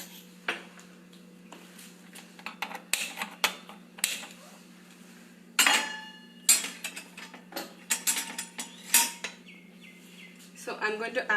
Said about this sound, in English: I'm also going to start roasting my nuts.